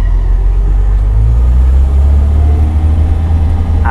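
A Mercedes 280SL Pagoda W113 classic roadster engine pulls away steadily, a loud, close low rumble with a rising drone as the car gets moving from inside the cabin.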